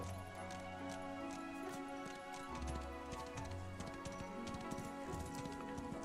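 Steady rhythmic hoofbeats of a galloping horse, clear and continuous over a droning game soundtrack, with no talking.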